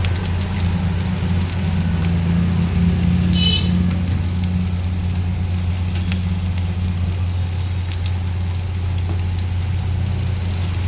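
Chopped carrots and beans fry in a pan for Maggi noodles, giving a continuous, even sizzle over a low steady hum, close and unbroken throughout.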